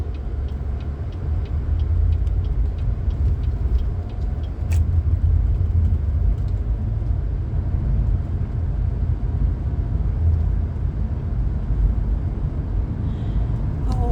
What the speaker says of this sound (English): we're going to drive to the south end of the lake.